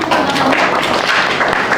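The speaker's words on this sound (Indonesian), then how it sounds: "Berikan tepuk tangan." Classroom applause for a student's presentation during a teaching practice session, a dense burst of many hands clapping together, loud and steady throughout, with some voices mixed in.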